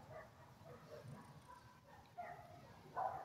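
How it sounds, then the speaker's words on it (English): Dogs bark somewhere in a residential neighborhood outside a tiny house, faint and distant, with a couple of slightly stronger yelps toward the end over steady background noise. "here's the dogs in the neighborhood"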